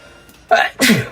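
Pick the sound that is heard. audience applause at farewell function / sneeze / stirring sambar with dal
sneeze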